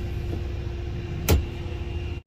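A 1997 Ford F250 pickup with the 7.5L V8 drives along with a steady low engine hum and road rumble, one brief louder thump partway through, cutting off abruptly at the end.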